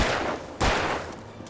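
Gunfire rings out in the video game Alan Wake Remastered, a few sharp, loud shots with one strong blast near the middle of a short burst of combat noise.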